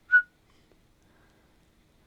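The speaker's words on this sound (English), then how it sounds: "There was like a high pitch noise. Was it a whistle?" On bodycam footage, one brief, high-pitched whistle-like chirp sounds at the very start, then near silence follows with only faint low rustles and no voices.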